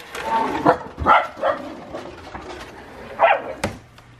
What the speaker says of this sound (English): So dogs always bark every time they hear something outside